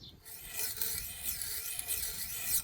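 Steady abrasive rasping of a fishing hook or blade point being sharpened on a file or stone, a close, continuous scraping with slight pulses in intensity and no voices.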